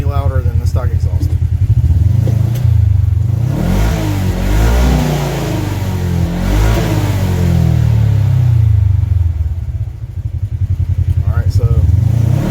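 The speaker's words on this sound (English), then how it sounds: "I'll rev it up a couple times for you and let you hear that it's really not any louder than the stock exhaust." Kawasaki KRX 1000 side-by-side engine running with the catalytic converter removed, revved up and down a few times from a close idle with loud, rising and falling swells; someone talks over parts of it.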